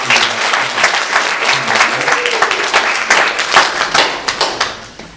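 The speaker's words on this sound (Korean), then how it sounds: "다 같이 박수로 축하드립니다" A church congregation claps together at a Sunday worship service to celebrate members' birthdays, loud and close, with dense hand claps that thin out toward the end into a few scattered individual claps.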